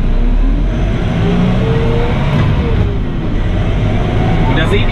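A McCormick X4.100F tractor with P3-Drive transmission pulls away forward in first gear, its steady engine drone loud and close throughout, with a person talking over it.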